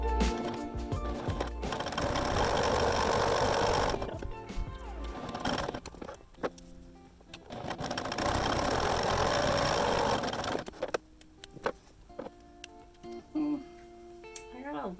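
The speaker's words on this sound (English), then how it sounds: "So I'm just going to top stitch up and down." Sewing machine top stitching a GreedyClutch bag, two long close bursts of fast rhythmic stitching separated by pauses, then light handling clicks and a voice at the end.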